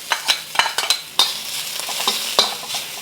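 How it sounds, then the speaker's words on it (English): Ginger and garlic stir-fried in a hot pan for a Chinese dish, with a steady sizzle under repeated scraping and clanking strokes of the utensil against the pan, close and loud with no talk. "I'm going to add my ginger and garlic."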